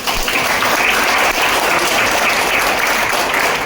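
A seminar audience breaks into loud, dense applause, many hands clapping in a steady roar that fills the room for several seconds with no voices over it.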